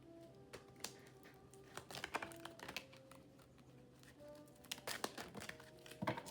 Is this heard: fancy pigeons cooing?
no